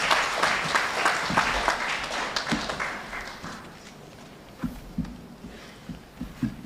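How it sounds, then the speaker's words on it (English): An audience applauds a guest lecturer at a formal occasion, a dense patter of clapping that holds steady then thins into scattered, separate claps toward the end. "A round of applause."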